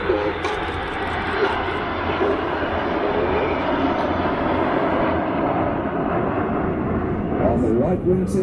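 RAF Red Arrows jets roar overhead in Concorde formation at the Canadian International Air Show 2019, a broad, sustained engine rumble heard from a distance beneath a commentator's voice over the public address.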